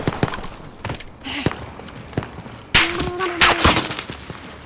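Gunfire in a Call of Duty: Modern Warfare Rebirth multiplayer match: scattered sharp single shots early on, then a louder cluster of rapid bursts near the end, with no talk.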